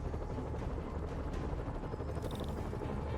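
Helicopter in Marvel's Spider-Man, a dense continuous rotor and engine roar filling the scene, steady and fairly close, with a brief high electronic chirp near the end.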